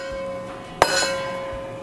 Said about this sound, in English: And to that, I'm going to add 3 ice cubes.